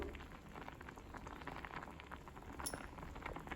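Sweet pongal (chakkera pongal) simmers in a pot, producing a soft, continuous bubbling hiss that stays steady and low throughout.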